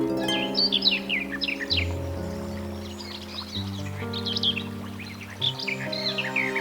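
Bright cartoon bird chirps and tweets flit over a sustained musical backing of held chords, the calls coming in quick clusters.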